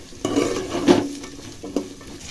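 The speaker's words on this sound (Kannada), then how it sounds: "ಈರುಳ್ಳಿ ಸ್ವಲ್ಪ ಗೋಲ್ಡನ್ ಬ್ರೌನ್ ಬರಬೇಕು, ಅಲ್ಲಿಗೂ ಚೆನ್ನಾಗಿ ಫ್ರೈ ಮಾಡ್ಕೊಳ್ಳಿ" Onions and curry leaves fry in oil toward golden brown for a green chicken fry, close stirring scrapes and a soft sizzle in a short burst with no voices.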